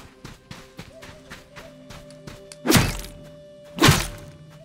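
Spear strikes land on a coconut crab in the survival game Soulmask: a run of quick footstep-like taps leads into two heavy, booming thuds about a second apart, close and loud with no talking.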